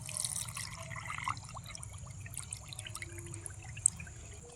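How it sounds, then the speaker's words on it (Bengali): A bowl of water is poured into semolina, making a faint trickling and splashing against a low background hum, with a small clink toward the end. "এক বাটি জল দিয়ে দিচ্ছি।"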